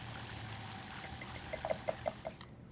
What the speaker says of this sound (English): It's important that whatever liquid we put into our starch at this point is cold